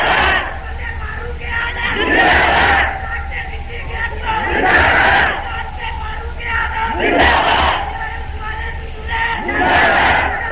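A large crowd at an outdoor religious gathering chants long slogans in unison, roaring in repeated waves roughly every two to three seconds, loud and massed with a steady hum beneath.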